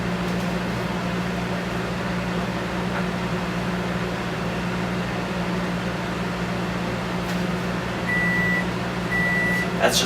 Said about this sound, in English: That's just our microwave reminding us that it's ready.